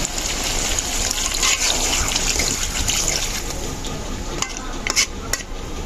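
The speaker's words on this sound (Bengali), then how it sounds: "এখন আমি পানি দিয়ে দিব।" Water goes into a cooking pot of duck meat, with a sizzling, bubbling wash and stirring and clinking of a utensil against the pot, close by and fairly loud.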